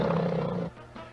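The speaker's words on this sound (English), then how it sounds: "it's a tiger" A deep tiger roar from a gasoline radio advert, short and rumbling, loud at first and then trailing off into a quieter growl.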